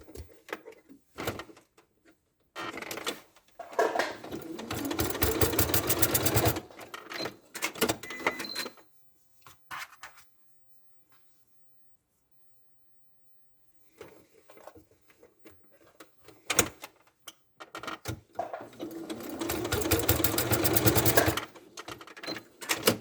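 Domestic sewing machine basting the legs onto a toy ladybird: bursts of rapid mechanical stitching whir in runs of several seconds, separated by clicks, handling noises and a long quiet pause mid-way.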